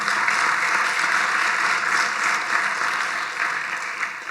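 Steady applause from a church congregation, continuous and moderately loud, fading slightly toward the end.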